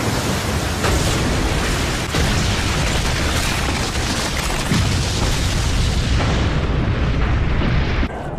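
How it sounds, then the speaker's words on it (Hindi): A blast in the Naruto Shippuden anime: a loud, sustained roaring explosion that fills the whole stretch with dense, rumbling noise before easing slightly near the end. "एक धमाका हो जाए देदरा"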